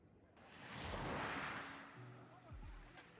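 Sea waves wash onto the seashore at Nerja, Spain, in a broad steady roar of surf with heavy wind rumble on the microphone, swelling in the middle and easing slightly, with faint low tonal sounds toward the end.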